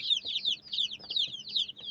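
Chickens cluck close by in quick, repeated high-pitched bursts across the whole short stretch, with no one speaking.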